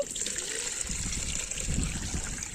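Liquid fertilizer and pesticide mix, about one and a half litres, poured through a filter, giving a steady close trickle and splash of liquid that runs throughout without pause.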